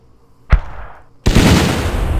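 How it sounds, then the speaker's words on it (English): Mortar fire in the wargame Battle Academy 2 on the Kursk front: one sharp launch thump with a short decaying tail, then a loud, sustained rumbling burst of impact noise that carries on to the end, with no talk. "Let's see what our mortars are doing. And let's see if they can actually hit this enemy."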